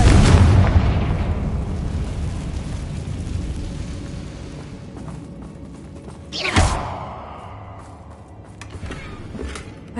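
Confringo spell explosions in the Hogwarts Legacy video game: a loud, rumbling blast that slowly fades, then a second sharp burst partway through, followed by lighter pops.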